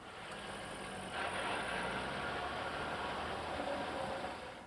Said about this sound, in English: Some customers have asked about a mechanical buzz or rattle noise coming from underneath the car.